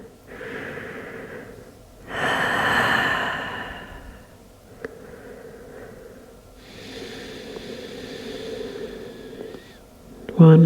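Slow, audible breathing during a yoga session, with a long drawn inhale and an extended soft exhale close to the ear, separated by quiet pauses.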